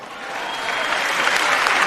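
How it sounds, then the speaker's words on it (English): Clapping in the chamber of Congress during the 2024 State of the Union address, a dense wash of applause from a large crowd that builds steadily in loudness and fills the room. "Clapping"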